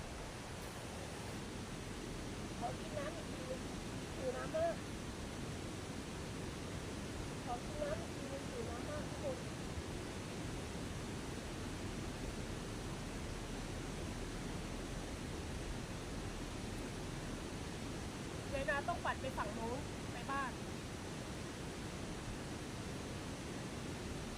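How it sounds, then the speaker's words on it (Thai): Steady, soft rush of flowing water in a village setting near a suspension bridge, a continuous even wash of sound throughout, with faint voices briefly heard over it now and then. "แต่เสียงน้ำไหล"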